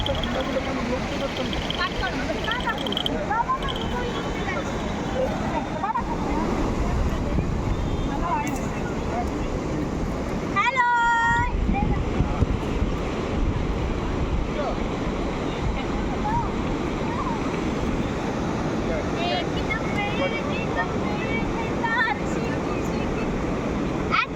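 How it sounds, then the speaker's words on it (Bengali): Ocean surf rolls in at a beach in a steady, broad wash of waves with wind buffeting the microphone, with people talking faintly over it. "ওই দেখো সমুদ্র।"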